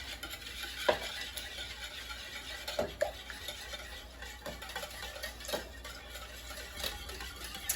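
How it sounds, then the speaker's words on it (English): Eggs being whisked in a bowl along with cheese and milk, a soft continuous stirring swish with occasional light clicks of the whisk against the bowl, faint and close, with no voices. "Whisk that up."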